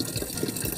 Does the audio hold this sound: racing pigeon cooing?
no